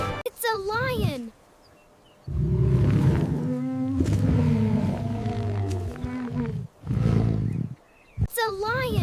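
A lion roars in a long, deep, rumbling call that dominates the middle of the clip, bracketed by a voice speaking before and after.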